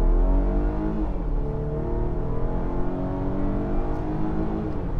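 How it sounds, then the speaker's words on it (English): A 2021 Volvo XC60 with a 250-horsepower 2-liter turbocharged engine accelerates on the road, a steady, loud engine drone that holds continuously for the whole stretch with no talk. "This is the 2-liter engine with 250 horsepower"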